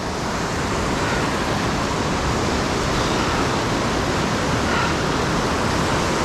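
Rushing water of Cucumber Rapids at Ohiopyle, heard beside a boulder field as a loud, steady broadband roar that fills the whole stretch without a break.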